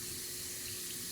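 Warm tap water runs steadily into a sink while a brush is rinsed, a close, constant rushing flow with no pauses.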